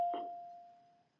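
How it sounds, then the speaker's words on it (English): A bell sounds once as a single clear struck tone that rings out and fades steadily over about a second, fairly faint and alone. "the bells are ringing"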